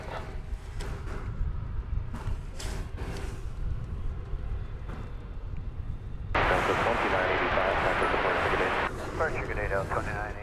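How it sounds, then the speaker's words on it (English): An American Airlines Airbus A320 taking off from DFW, a far-off engine rumble that swells into a broad, loud roar partway through, heard beneath frequent talking and radio chatter. "American Flight 2389. Lifting off now to Austin, Texas. This is an Airbus A320."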